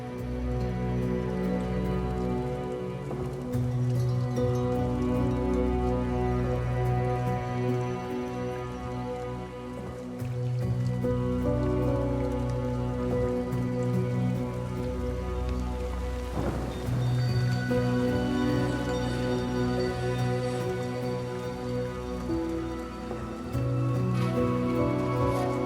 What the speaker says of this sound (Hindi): देखो जी, बारिश तो बंद नहीं हो रही है